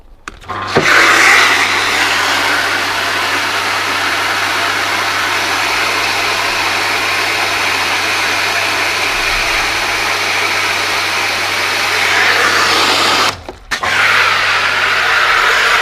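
A pressure washer sprays down a Porsche GT3 RS before detailing. It makes a loud, steady, broadband hiss that runs almost without a break, cuts out briefly near the end, then starts again.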